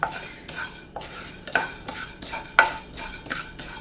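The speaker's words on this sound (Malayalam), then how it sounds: "ഇതൊന്ന് ലോ ഫ്ലെയിമിൽ തന്നെ വെച്ച് ഫ്രൈ ചെയ്തെടുക്കണം. സാവകാശം ഇളക്കി കൊടുക്കാം." Dal dry-fried and stirred slowly over a low flame for homemade sambar powder; a utensil scrapes through the dry lentils in the pan in regular close strokes over a faint sizzle, with no talk.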